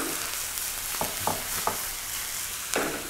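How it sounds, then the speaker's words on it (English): Red wine poured over sautéed onions sizzles steadily in a hot pan, with a few short stirring clicks and scrapes spaced through it, close and alone. "I'm gonna add a little red wine infusion to the glaze"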